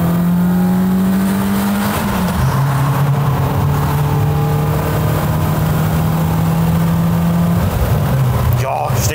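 A BMW 318is Class 2 race car engine roaring inside a tunnel, loud and close with a sustained drone that dips as the driver shifts gears, then holds steady before another shift near the end.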